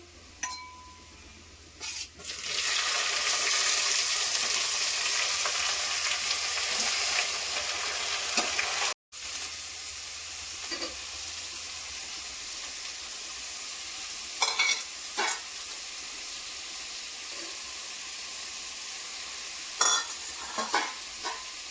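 Spices and garlic sizzle in hot ghee as a tempering for pigeon pea curry, with an intense frying hiss early on that then settles into a steady sizzle under scattered stirring clinks of a utensil against the pan.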